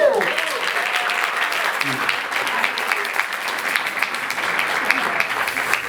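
At a fashion show, an audience gives loud, sustained applause for the artistic director, dense clapping with a few brief cheers and stray voices near the start.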